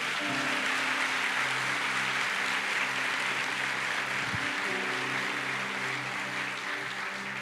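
Church congregation applauding during a Portuguese-language sermon, a steady broad wash of clapping that fills the space, with sustained organ or keyboard tones beneath it.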